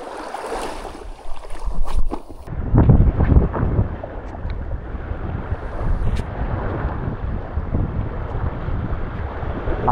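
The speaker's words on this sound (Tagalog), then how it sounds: "Lakas ng hangin guys." Strong wind buffets the microphone out at sea near an island while fishing for trevally, a steady roaring gust with low rumbling noise, broader and louder after the first couple of seconds, no talk.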